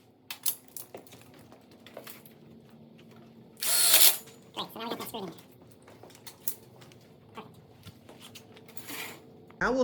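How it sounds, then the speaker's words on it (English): A drill drives screws to fix the frame of a drop-down burner module in an outdoor kitchen. There is one loud, brief whirring burst, surrounded by light tool clatter and speech. "then we'll lock it in with the screws"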